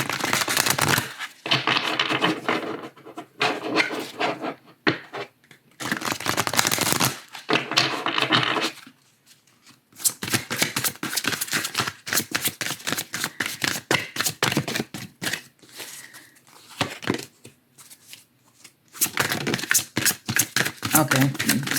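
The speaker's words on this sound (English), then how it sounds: "we're going to pull 2 oracle cards" Oracle cards being shuffled by hand, a rapid papery riffling that comes in several bursts of a few seconds each, separated by short pauses, with nobody talking.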